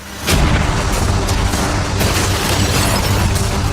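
Cannons fire at a yacht in a loud outdoor barrage, a sharp boom opening a dense, rumbling stretch of overlapping blasts and impacts that stays heavy for several seconds.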